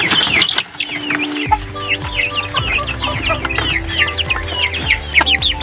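Aseel chicken chicks clucking and cheeping in a busy, continuous stream of short chirps, close by and fairly loud, with low clucks from grown fowl underneath.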